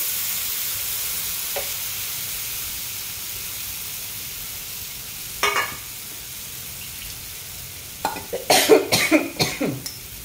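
Besan tipped onto a frying mixture on a tawa, with a low steady sizzle, a few sharp scraping and stirring scrapes, then a burst of louder clattering stirs near the end, close by.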